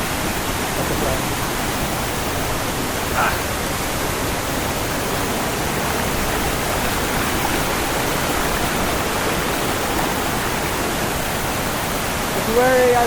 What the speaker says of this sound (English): The water current is very fucking strong.